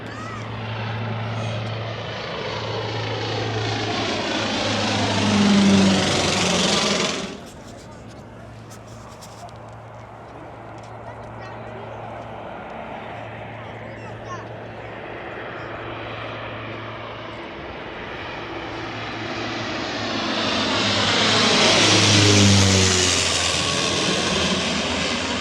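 An Air Canada airliner passes low overhead, its loud engine roar swelling and fading twice across the span with a steady low hum between passes.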